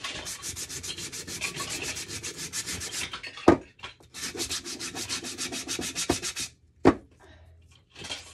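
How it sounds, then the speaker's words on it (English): Sandpaper rubs back and forth along the corners and edges of a painted wood block, making steady rasping strokes broken by a few brief pauses and knocks, close and fairly loud, with no speech. "Sand the corners and the edges."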